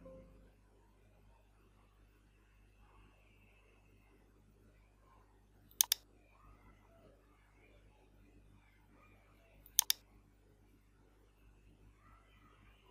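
Two quiet computer mouse clicks on a Windows PC, each a quick double tick, spaced about four seconds apart over faint background hiss.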